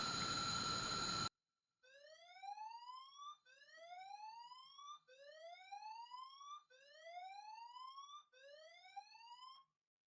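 A fire alarm sounds in repeated rising electronic whoops, five regular bursts with short gaps, heard alone after a brief opening noise.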